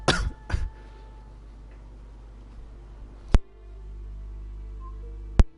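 Two quick, close coughs open the stretch, followed by quiet and a couple of isolated sharp clicks.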